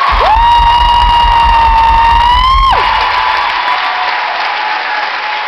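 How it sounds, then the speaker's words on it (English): Concert crowd at a live show applauding an opening act, loud dense clapping throughout, with a sustained rising-then-steady electronic tone or feedback over the first few seconds before fading to continuing applause. "I'd love it if you'd give him a huge round of applause"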